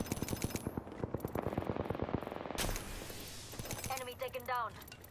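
Automatic weapon fire in the Apex Legends video game, a rapid burst of gunshots followed by a crackling sound and a brief electronic chirp. It is fairly quiet, with voices over it.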